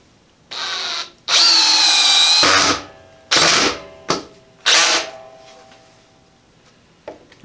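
A power driver sinks a 3.5 inch screw into wood with loud, close whirring bursts of varying length, broken by short pauses and a few brief, stuttering pulses near the end.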